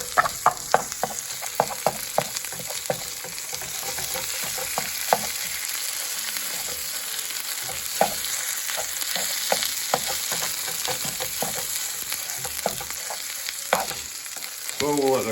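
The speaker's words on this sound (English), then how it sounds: "As the chorizo cooks, you'll see it start breaking down into smaller pieces." Ghost pepper chorizo frying in a pan while being broken apart, a steady close sizzle punctuated by frequent sharp scraping and tapping of a utensil against the pan.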